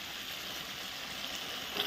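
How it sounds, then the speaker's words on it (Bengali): Spice paste with potatoes sizzles steadily in a hot pan as it is sautéed, a soft, continuous frying hiss with no talk. "এখন আস্তে আস্তে মশলাটা ভালো করে কষিয়ে নিচ্ছি বন্ধুরা"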